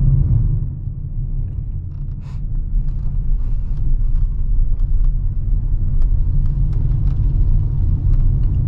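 A 2023 Kia Stonic on the road, heard from inside the cabin as a steady low rumble of engine and tyres with faint creaks and ticks, continuous and fairly loud with no talking.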